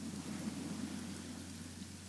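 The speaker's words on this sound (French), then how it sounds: "C'est vrai que c'est un peu chiant et la pluie là." Steady rain with low rumbling thunder in a French role-play video game, a continuous hiss of rainfall and a deep rolling rumble that stay even throughout, with no talking.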